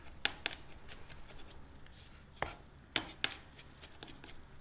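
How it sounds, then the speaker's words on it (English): Fresh garlic chopped on a cutting board for linguine and red clam sauce, with sharp, irregular knife taps, close and fairly quiet, spaced apart with short pauses between strokes. "So now we're chopping up some fresh garlic"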